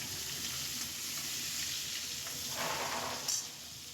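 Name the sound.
prawns frying in a pan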